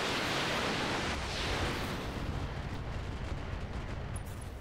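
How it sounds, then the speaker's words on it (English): Mech weapons fire in the RogueTech BattleTech mod, a dense, loud, continuous roar of overlapping blasts and rumble lasting several seconds without any talk. "Gonna unload on the Battlemaster or the Black Knight again. Yeah, firing everything."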